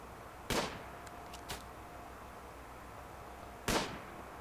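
Gunshots in the video game Rimworld: two sharp cracks a few seconds apart with a softer pop between them, fairly quiet over a faint steady background hum.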